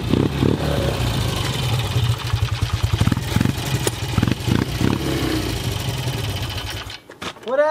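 Engine of a 1967 BSA Thunderbolt motorcycle while riding, a loud, steady rapid thrumming throttle note with brief dips, cutting off near the end.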